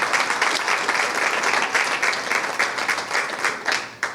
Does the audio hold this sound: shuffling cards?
no